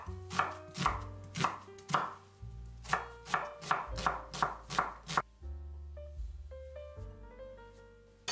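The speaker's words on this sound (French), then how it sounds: "J'émince 4 oignons." A knife slices onions on a board in quick, close, regular chops, about a dozen strokes in a steady rhythm. Soft background music plays throughout, and there is no speech.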